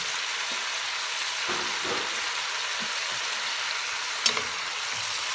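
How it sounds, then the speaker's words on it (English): Pork belly frying in a pan for adobo, a steady moderate sizzle with a few soft stirring knocks and one brief clink. "We will put the meat now. This is pork belly."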